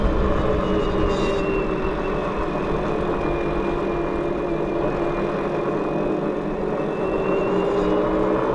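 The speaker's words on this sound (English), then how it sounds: "I'll let you listen to the motor through this next kind of punchy climb section." An iGo Outland Torngat RS e-bike with a mid-drive motor and 4.8-inch fat tires pulls up a short, punchy climb, giving a steady mid-level motor whine over a continuous low rolling rumble of the big tires, close and constant throughout.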